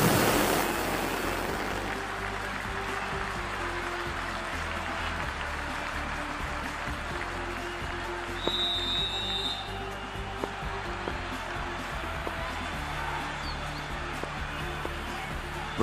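A dense, distant roar of a large stadium crowd at a women's T20 World Cup cricket final, continuous and washy, with a faint whistle-like tone and scattered clicks rising briefly above it.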